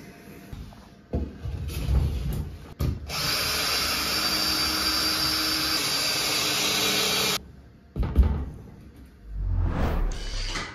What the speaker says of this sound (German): Deswegen nehme ich jetzt einfach hier Reste von so einer USB-Platte, die hier noch rumliegen, und schraube die da unten drunter fest.